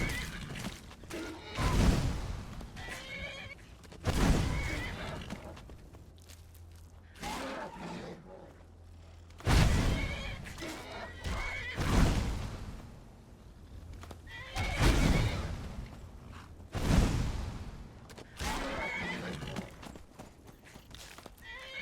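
A horse in Skyrim neighs and whinnies repeatedly in loud bursts every few seconds, with clip-clop hoofbeats and galloping thuds running underneath between the calls.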